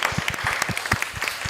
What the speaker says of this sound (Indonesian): Tepuk tangan dulu dong untuk Kala Toyota.